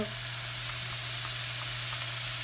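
Green onions sizzle in a hot pan of Pad Thai cooked with soy sauce, a steady, close frying hiss with a constant low hum beneath and no talking.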